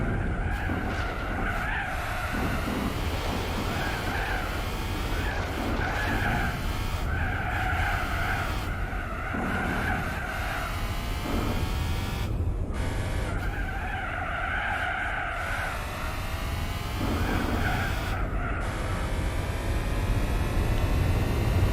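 Tyres skid and squeal under hard braking in Gran Turismo 4, a sustained screech layered over a loud racing engine that rises and falls through repeated corner entries, with no talk.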